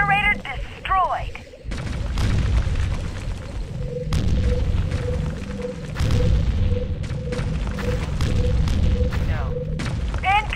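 In the Tribes video game, an enemy generator is destroyed with heavy booming blasts and rumbling explosions after a short quiet opening, loud and sustained, mixed with game voice announcements.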